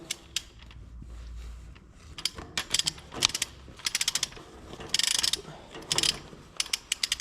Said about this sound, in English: I put my torque wrench at 25 foot-pounds.